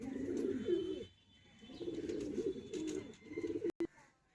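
Pigeons close by give soft, low repeated coos in several bursts with brief pauses, plus a short sharp clatter near the end, and no talking.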